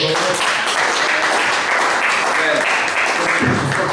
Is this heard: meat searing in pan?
no